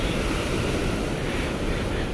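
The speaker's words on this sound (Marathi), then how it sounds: "लाट बघा कसली येतात जबरदस्त" Large waves breaking on a rocky shore of a rough monsoon sea, a continuous loud roar of surf and wind with no clear individual crashes standing out.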